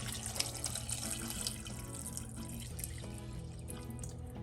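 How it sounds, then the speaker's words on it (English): Water streams steadily into a pot of parboiled rice, a continuous close splashing and gurgling with a few brighter drips. "I'm going to go ahead and I'm going to add the water."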